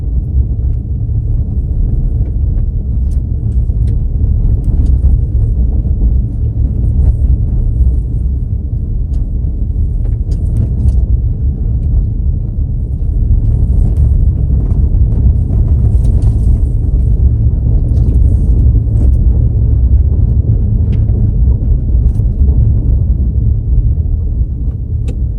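A car driving along a National Forest Service road toward a trailhead, with a steady, loud low rumble of engine and tires on the rough surface throughout.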